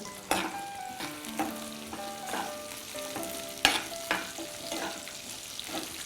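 Drumstick pieces sautéing with boiled potatoes in a pan for a Tamil drumstick-potato kuzhambu, a steady close sizzle broken by repeated sharp scrapes and clinks of a spoon stirring against the metal, with no talking.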